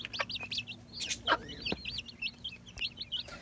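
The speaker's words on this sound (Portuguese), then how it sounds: "Aqui é a galinha com os pintinhos, né?" Close by, a silkie hen clucks softly among her newly hatched chicks, whose many thin, high peeps chirp rapidly and continuously around her low clucks.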